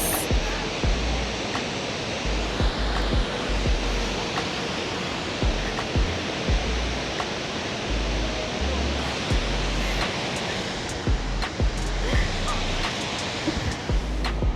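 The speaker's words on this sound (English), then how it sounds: "is another waterfall. This one is called Skógafoss." Skógafoss waterfall on Iceland's South Coast roars as a steady, dense wash of falling water, loud and continuous, with occasional low wind rumbles buffeting the microphone.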